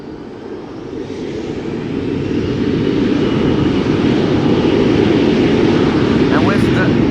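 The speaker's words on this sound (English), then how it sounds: "And Embraer 175 that will be going to Gdansk has overtaken the A330neo and is going to take off right away." A KLM Embraer 175 jet takes off at Schiphol, its engine roar building over the first couple of seconds into a loud, steady, broadband rumble held to the end, with a voice speaking over it.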